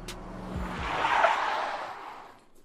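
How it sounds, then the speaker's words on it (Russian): A car in a video game pulls up, its engine rising and swelling with a whooshing rush, tires faintly squealing, then fading as it settles to a stop; no voices. "Жора, машина остановилась сверху."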